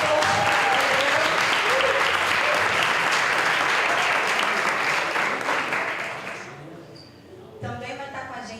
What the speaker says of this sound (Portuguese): Quero que você aplaude o Senhor bem forte.